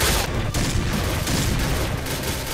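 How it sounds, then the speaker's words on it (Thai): Pistol fire in PUBG, loud close shots with heavy low thumps, fired in quick succession with no voices over them. "โอ้ยิงไม่โดนเลยปืนพกกู"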